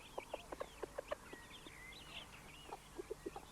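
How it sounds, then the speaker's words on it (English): Chickens cluck in short repeated bursts around a chicken house built of recycled wood on a central pole, the calls close and uneven in rhythm, with a few higher bird chirps drifting in behind them. "a nearby plot, David Osbiston attends to his chicken house."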